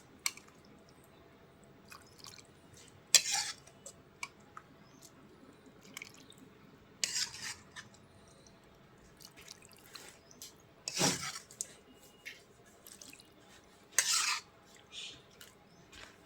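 Papad curry is moved from an iron wok into a pot: soft scrapes and occasional sharp clinks of a utensil against metal, separated by quiet stretches, close and fairly faint.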